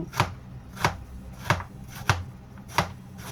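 A knife chops food on a cutting board in slow, regular strokes, six crisp, close thuds about two-thirds of a second apart, with no talking.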